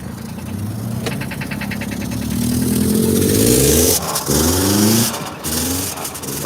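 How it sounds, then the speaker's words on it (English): A broken-down car's engine runs roughly on a downtown Los Angeles street, its uneven mid-pitched drone rising and dipping as it revs, loud and close with brief cut-outs near the end and no talk over it. "Yeah, that engine sounds fried."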